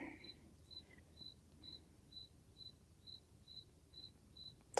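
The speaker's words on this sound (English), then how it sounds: "Sorry if you hear the crickets." Crickets chirping outside at night, a steady series of about ten evenly spaced, short high-pitched pulses, faint to moderate, over a low background hum with no talking.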